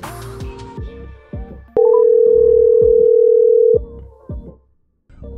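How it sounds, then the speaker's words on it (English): A phone call placed from a PC brings a loud, steady dial tone lasting about two seconds. Before and after it come short plucked musical notes in a quick, bouncy sequence, and no one speaks. "you can do awesome things like make a call on your PC."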